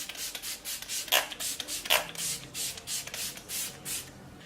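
Smashbox Primer Water setting spray is pumped in a quick run of short, airy hisses, about a dozen bursts in a steady rhythm, close and fairly soft, with no talking.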